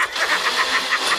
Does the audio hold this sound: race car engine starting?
yes